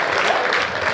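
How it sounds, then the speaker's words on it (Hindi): An audience at a comic poetry performance claps on request, giving a short, dense burst of applause from many hands. "ताली बजाओ जरा"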